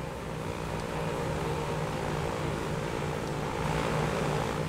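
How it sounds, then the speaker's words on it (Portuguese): An airplane takes off in the Transport Fever video game, producing a continuous, loud propeller-engine drone that holds steady throughout with no voices. "Há um avião decolando aqui."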